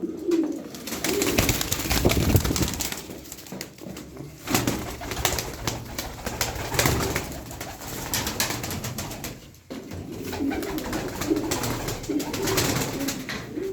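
Pigeons cooing inside a coop, continuous overlapping coos and soft calls from several birds, close and steady throughout.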